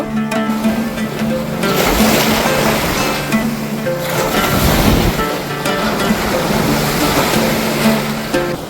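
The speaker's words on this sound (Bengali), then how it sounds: "কত সুন্দর জলের ঢেউ দেখতে পাচ্ছ" Sea waves at Bakkhali beach surge and break continuously, a loud, steady roar of surf with wind buffeting the microphone.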